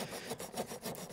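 A Victorinox Fieldmaster pocket saw cuts through a wooden branch about 4 cm thick, giving rhythmic rasping strokes back and forth, close and fairly quiet.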